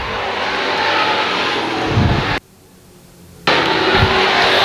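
A pro stock race car engine at Can-Am Speedway roars loud and close under the throttle, drops away to near silence for about a second, then returns at full volume.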